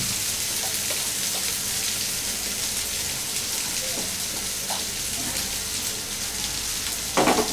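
Chopped moringa leaves frying with ginger and sliced green chillies in a pan, a steady close sizzle with faint stirring scrapes and a brief louder clatter near the end.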